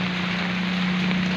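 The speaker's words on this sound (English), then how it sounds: "The rain falls down and the road is flooded." Rain pours steadily onto a flooded road as a dense, even hiss with a low constant hum beneath, loud and close, with no voices.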